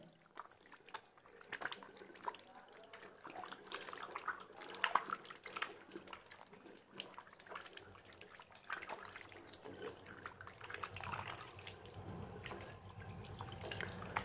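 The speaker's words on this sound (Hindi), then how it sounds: "उसके बाद मैं टैप को छू रहा हूं, यहां भी मैं थोड़ा साफ कर देता हूं इसको। और ये मैंने अपने हाथ धो लिया।" Hands being washed under a running tap at a sink, a steady wash of flowing water with small splashes and drips throughout, fairly faint and continuous with no talk.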